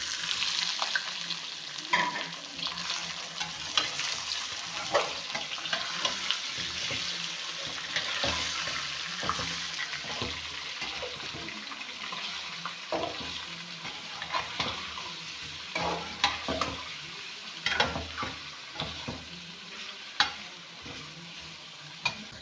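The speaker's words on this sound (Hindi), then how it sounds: "चिकन को हम इतना फ्राई करेंगे कि चिकन का कलर चेंज हो जाए" About a kilogram of chicken frying in a pan over golden brown onions for a shahi chicken korma, with a steady loud sizzle and frequent scraping stir strokes, no talking.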